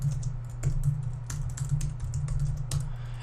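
Rapid typing on a computer keyboard in note-taking software, a quick continuous patter of close key clicks over a steady low hum.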